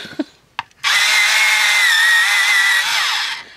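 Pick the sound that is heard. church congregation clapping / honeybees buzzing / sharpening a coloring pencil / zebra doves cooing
sharpening a coloring pencil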